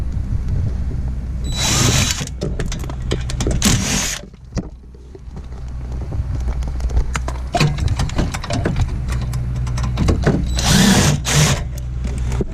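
Power tool spinning out 8mm bolts behind the dash of a school bus, with several loud bursts of whirring drill noise separated by pauses and some clattering handling.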